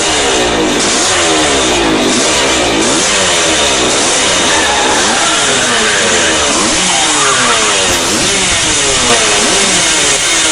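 A Leyland P76 engine revs hard during a reverse race, loud rising and falling mechanical roar in repeated surges.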